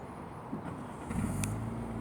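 A 2017 Nissan Qashqai SL AWD engine turns over and catches from a push-button start, settling into a low idle after a brief electronic chirp, heard close by.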